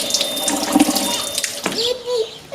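Water from a water ionizer machine runs from a spout over meat being rinsed, a steady near splashing stream that changes pitch as the flow hits the meat, with no talk.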